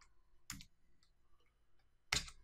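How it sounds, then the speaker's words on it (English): Two sharp clicks of a computer keyboard sound close and isolated against near silence, a quick keystroke burst near the start and another near the end. "We'll type in true."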